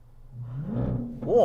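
An off-road vehicle's engine revs against a soft rev limiter set at 3,500 RPM, its low droning note swelling steadily, then rising sharply at the end.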